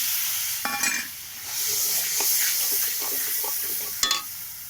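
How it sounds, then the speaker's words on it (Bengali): Water used to rinse spices is poured into fish curry masala frying in a pan, giving a steady close sizzle with stirring clatter and a few sharp utensil knocks. "মশলা ধোয়া জলটা দিয়ে দেওয়া হলো"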